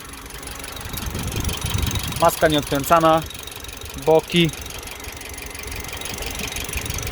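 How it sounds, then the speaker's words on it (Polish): Engine of a BMW X1 with a knocking fault, idling with a steady mechanical rumble and faint tapping, heard close up under someone speaking briefly. "coś stuka w tym silniku"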